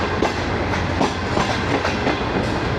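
The Bulleh Shah Passenger train rolls slowly out of the Lahore Junction yard past the washing lines, wheels knocking over rail joints in a steady clickety-clack with a constant rumble beneath.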